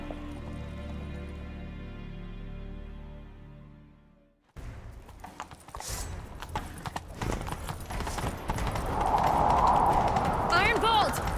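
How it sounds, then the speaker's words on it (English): In the video game Witcher 3, a horse gallops at speed with quick, rhythmic hoofbeats that grow louder and more intense, coming after a spell of music, with voices talking at points. "Grab a horse, we'll chase him down."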